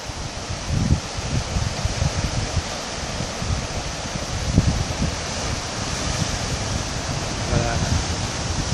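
Ocean surf rolling against the tetrapods of the north jetty at Port Ouest, Réunion, at dusk, a loud broad rush with repeated low swells, heavily mixed with wind buffeting the microphone.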